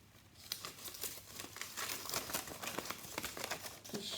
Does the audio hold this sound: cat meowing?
no